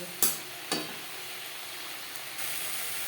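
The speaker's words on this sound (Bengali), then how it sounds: "হাই টু মিডিয়াম ফ্লেমে মশলার সাথে বেগুন বেশ ভালো করে কষিয়ে নেওয়ার পর দিয়ে দেবো জল" Eggplant frying with salt, turmeric and red chili powder in a pan over high to medium flame, a steady soft sizzle with two brief sharp bursts near the start, growing slightly louder toward the end.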